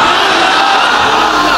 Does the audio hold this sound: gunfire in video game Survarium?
no